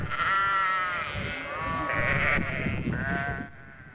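Sheep bleat in New Zealand, several animals calling one after another in a close, loud and continuous chorus.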